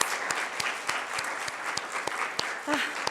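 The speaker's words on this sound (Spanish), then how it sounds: "Demos un aplauso al Señor" A church congregation claps steadily and enthusiastically, a dense wash of hand claps filling the whole stretch, with a voice briefly audible near the end.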